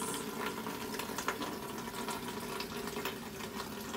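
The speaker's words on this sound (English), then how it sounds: "Just filling up their water buckets." Water running into buckets for horses being filled, a steady gurgling, bubbling stream of liquid heard close and moderately quiet for the whole stretch, no talking.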